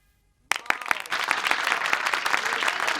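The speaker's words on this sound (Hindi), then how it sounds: "तालियां बजा रहे हैं" Sudden burst of audience clapping in a film scene from the movie Kya Kehna, opening with a few sharp individual claps after silence, then swelling into dense, sustained applause from a crowd.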